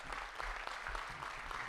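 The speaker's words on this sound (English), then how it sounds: "So give yourselves a round of applause." An audience at a school committee meeting claps together in a brief burst of applause, moderately faint and steady from start to finish, with no voices over it.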